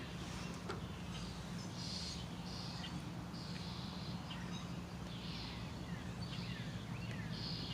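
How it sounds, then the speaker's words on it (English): Robins sing outdoors, their short repeated chirps faint and distant over a steady rushing background noise, with no talking. "Got some robins over there."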